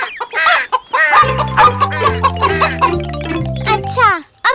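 A cartoon hen clucks in a rhythmic run of short, loud, close calls, with a child-like voice speaking before and after.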